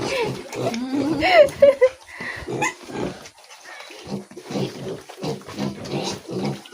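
Pigs feeding in a backyard pen make close grunts, snorts and squeals mixed with chewing and shuffling noise, while a person talks over them.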